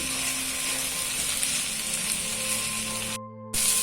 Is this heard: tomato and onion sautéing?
yes